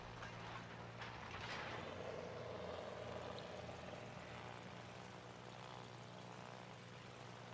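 Propeller aircraft engines in the World of Warships naval battle game drone steadily in a faint, continuous hum with a slight swell early on.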